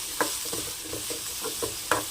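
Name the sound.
stirring potatoes frying with garlic in pan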